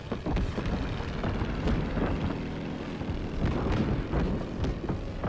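A loud, droning aircraft engine roars steadily while flying in the Call of Duty WW2 video game, with thumps and rumbles swelling and fading throughout.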